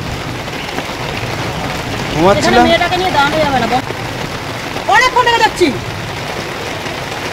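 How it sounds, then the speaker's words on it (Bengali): Steady rain falls outdoors on a street as a constant hiss under two short bursts of conversation from people standing in it. "বৃষ্টিতে তো আমরাও দাঁড়িয়ে আছি"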